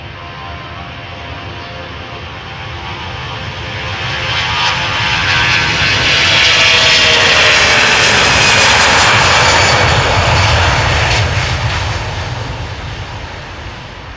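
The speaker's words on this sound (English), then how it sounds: "This is an A340-300, 15 years old, first flight April 2008." An Airbus A340-300 airliner, about fifteen years old, takes off at Amsterdam Schiphol, its engine roar swelling from a distant rumble to a loud, close peak and then fading away, with no talk over it.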